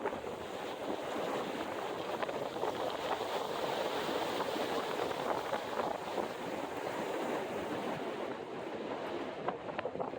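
Blustery wind on a ridge top near Cow Rock Mountain on the Appalachian Trail, a continuous loud roar buffeting the microphone without letup.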